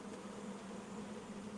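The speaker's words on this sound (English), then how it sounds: "Get about 2 inches of bees." Honey bees in a swarm march into a box, making a steady, soft, even hum that holds without a break and with no voices.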